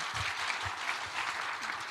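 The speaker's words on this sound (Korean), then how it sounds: "우리 다시 한번 박수로 환영하겠습니다." A church congregation applauding to welcome a speaker, a continuous even wash of many hands clapping at a moderate distance, with no talk over it.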